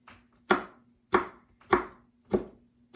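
A knife chops garlic cloves on a cutting board in five sharp, evenly spaced strikes, close and clear with no talking.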